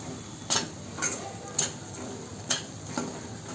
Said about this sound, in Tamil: இந்த எல்லா மசாலாவும் போட்டுட்டு நல்லா 1 நிமிஷத்துக்கு இந்த பச்சை வாசனை போகிற வரை நல்லா வதக்கி விட்டுக்கலாம்